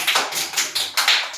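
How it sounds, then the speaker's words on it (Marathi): Close, sharp hand claps from children ring out in a steady rhythm, six or seven in just over a second, with nothing else heard. "छान टाळ्या वाजा सगळ्यांनी"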